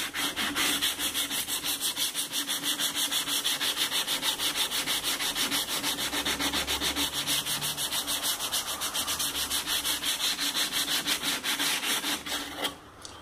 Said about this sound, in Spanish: ahora vamos a lijarle